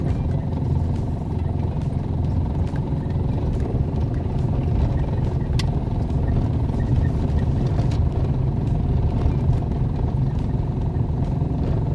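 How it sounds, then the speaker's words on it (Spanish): Car driving slowly along a badly damaged main street at Playa Monzón, a steady low engine rumble with loose bodywork rattling and clattering over bumps throughout. "Aquí uno tiene que ir bien despacito para que no le suene la lata al carro y no se desarme."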